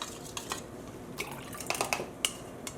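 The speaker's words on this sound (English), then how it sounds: "I'm also going to rinse off any extra dye" Water rinses leftover dye off spoons under a running tap, faint trickling punctuated by several light drips and small clinks of metal against the sink, quiet and close.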